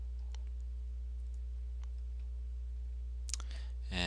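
A computer mouse gives a single sharp click late in the clip over a steady low electrical hum, followed by a brief rattling burst at the very end.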